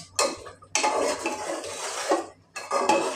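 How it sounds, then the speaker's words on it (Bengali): Meat being stirred in an open pressure cooker pot: bursts of metal spoon scraping and clanking against the pot, pausing briefly between strokes, close and fairly loud. "এখন আমি একটু নেড়ে দিব।"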